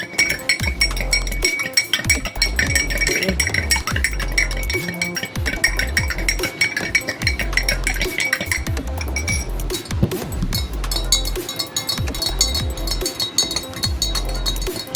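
Spoons stirring cooking oil and water in glasses, a steady close run of bright repeated clinks and taps against the glass that lasts throughout, with no talk.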